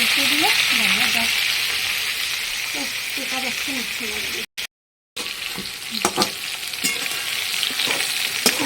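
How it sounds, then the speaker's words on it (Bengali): Fish heads frying in hot oil give a loud, continuous close sizzle and hiss, with a brief dropout midway and a few sharper crackles afterward; faint voices sound in the background. "মাছের মাথাগুলো সব ভাজা হয়ে গেছে"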